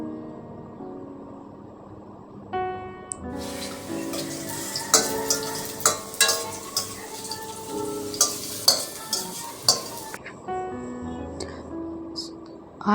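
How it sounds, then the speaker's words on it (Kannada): Pineapple pieces fry in oil in a pan with a soft, steady sizzle, punctuated by repeated clinks and scrapes of stirring, under faint background music. "ಆಯಿಲ್ ಹಾಕ್ಕೊಂಡು ಅದಕ್ಕೆ ಪೈನಾಪಲ್ ಹಾಕ್ತಾಯಿದ್ದೀನಿ."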